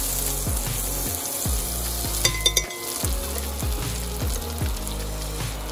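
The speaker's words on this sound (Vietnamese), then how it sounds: "mình nghe được cái tiếng xèo xèo này, mình thực sự rất là cảm thấy đói bụng" Meat frying in a pan with unsalted President butter gives a steady close sizzle, with stirring and scraping that comes back in a regular rhythm and no voices over it.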